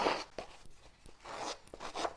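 Scissors scraping and roughing up the edges of cardstock in a papercraft kit, a series of soft rasping strokes at an uneven rhythm, close and quiet.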